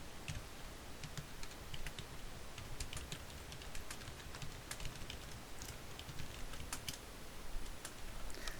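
Hangul text typed steadily on a computer keyboard for a word-processor table exercise, with a quick, continuous patter of soft key clicks at close range over low background hiss.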